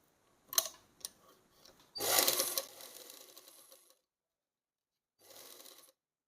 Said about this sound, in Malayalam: ഇവിടുന്ന് ഇവിടെ വരെ സ്റ്റിച്ച് ചെയ്യാം.